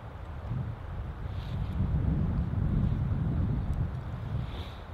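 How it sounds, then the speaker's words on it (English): Strong, cold wind blows outdoors on a stormy solo wilderness trip, making a continuous loud rumble with gusty swells that lasts throughout, and no voices are heard. "It's fucking windy and cold."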